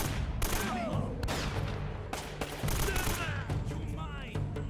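AK rifle fire in the video game Uncharted: Drake's Fortune Remastered, loud rapid bursts of automatic gunshots in a dense, chaotic firefight with overlapping cracks and echoes.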